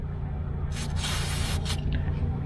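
Lubricant sprayed from an aerosol can onto a car door latch hisses in two close bursts, a longer one followed by a shorter one, loud and near against a low background hum.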